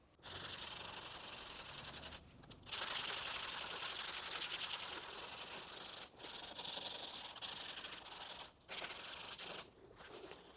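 Hand sanding with 180-grit sandpaper, feathering out body filler while painting a car firewall: steady, close abrasive rasping in long continuous strokes, broken by brief pauses.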